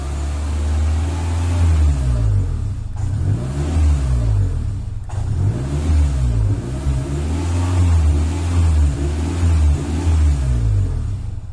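A faulty Renault car engine revs up repeatedly toward 3000 rpm and cuts out each time, giving a loud, close, rising-and-falling drone with stuttering drops.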